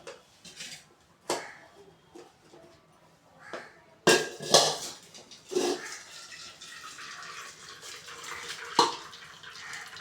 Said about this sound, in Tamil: பாருங்கள், தண்ணியெல்லாம் ஊற்றுதா